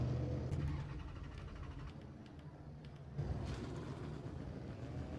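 Milano race car in the sim racing game Automobilista 2 drones steadily with a quiet, continuous engine note that swells slightly louder about midway through.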